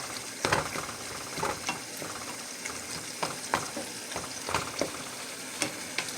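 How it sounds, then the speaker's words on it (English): Hot fat sizzling and sputtering in a pan of cooked meat for a copycat Mexican pizza as it is tipped and drained, with steady frying hiss and periodic scraping clinks. "get ready to drain all the fat off of here"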